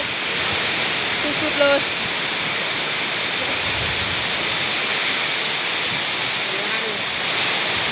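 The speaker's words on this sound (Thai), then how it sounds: "วันนี้เป็นแบบว่าฝนตกหนัก" Heavy rain and fast runoff water around a house make a loud, continuous broadband roar close by, with someone speaking briefly over the steady rush.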